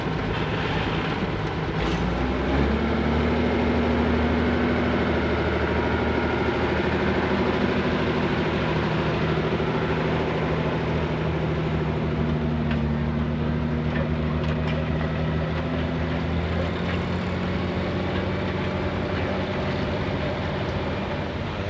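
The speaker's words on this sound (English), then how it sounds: "On your screen currently, you can currently see a Massey Ferguson 1200 turning around." A Massey Ferguson 1200 tractor's engine drones steadily as it turns around at a steam rally in the dark, a loud, continuous low rumble with a slight shift in pitch early on and no talking.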